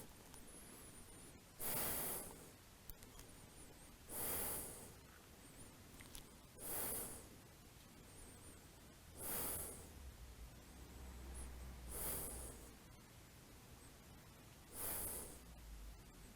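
Slow, deliberate breathing during a hurdler's split pose in a vinyasa yoga flow, with six evenly spaced breaths each lasting about a second, soft and close, separated by quiet pauses.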